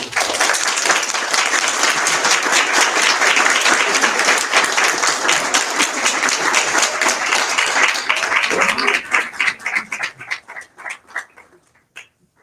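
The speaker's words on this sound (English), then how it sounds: "Another round of applause to them." Loud, dense applause from a large crowd, sustained for several seconds before thinning out into scattered claps and fading.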